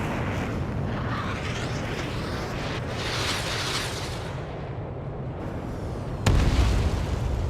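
Explosion from a destroyed target in the jet combat game Ace Combat 7, a sustained low rumbling boom with a sharp louder burst near the end, no talking.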